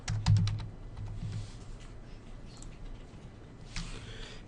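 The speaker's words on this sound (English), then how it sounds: "so I can start typing Andrew" Several quick keyboard key presses at the start, then a quieter stretch and another short burst of typing near the end, close by with no voices.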